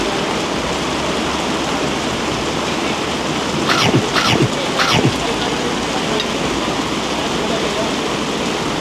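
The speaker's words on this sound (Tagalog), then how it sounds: "Pero umuulan." Steady heavy rain pours down outdoors as a dense, continuous hiss, with a few brief sharp squeaks or chirps rising over it midway through.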